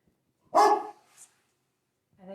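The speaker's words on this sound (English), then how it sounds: "I have a very large dog. I apologize. Let me go hush him." A very large dog at home gives one loud, close bark, followed by a faint short yip and then a softer sound after a pause.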